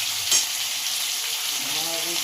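Potatoes and fish sizzle in white vegetable oil in a pan, a loud, close, steady crackling fry with a brief clatter of stirring near the start.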